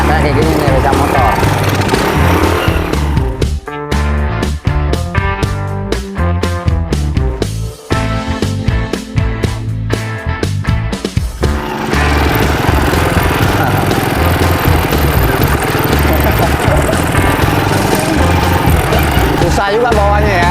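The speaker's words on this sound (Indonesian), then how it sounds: "Ini namanya becak motor. Kalau di Aceh becaknya kayak gini nih, becak motor." A motorized rickshaw (becak motor) engine in Aceh runs loud and close, a continuous rough drone with a choppier stretch in the middle and people talking over it.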